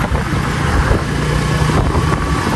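A motorcycle with a jammed tyre and faulty brakes runs steadily at close range, giving a continuous low mechanical drone with a rough broadband rattle layered over it.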